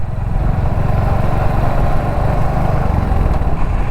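A motorcycle engine hums steadily and loudly on a national highway in Bangladesh, a continuous close drone with road and wind noise mixed in. No voices.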